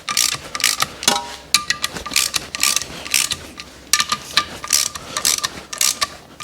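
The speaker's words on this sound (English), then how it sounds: "A couple of cranks on each bolt," Ratchet wrench cranking clutch pressure plate bolts on a Subaru WRX engine during assembly, with bursts of rapid close clicking repeated in short runs, a few pauses between sets.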